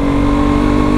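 A KTM RC 125 motorcycle's 125cc single-cylinder engine is held hard against its rev limiter, a loud, steady, buzzing drone with a faint stutter at the cutoff, running continuously for the full second with no talk.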